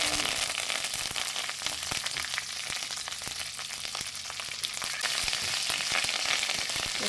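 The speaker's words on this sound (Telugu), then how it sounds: "తర్వాత కరివేపాకు వేసుకోవాలి." Curry leaves and chana dal frying in a small amount of oil, a dense steady crackling sizzle with scattered sharp pops, close and continuous with no talking.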